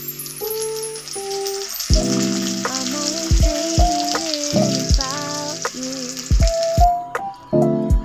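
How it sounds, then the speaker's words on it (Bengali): Onions fry in oil with bay leaf, cinnamon, cardamom and cloves, giving a steady sizzle beneath melodic music, with sharp metallic clinks scattered throughout. "এই তো পেঁয়াজটা ভাজা হইতেছে"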